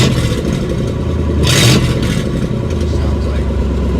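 A 1960 Chevrolet Impala, unused for 32 years and running with its mufflers removed, idles loud and rough up close, then revs sharply once in the middle before settling back to a rumbling idle.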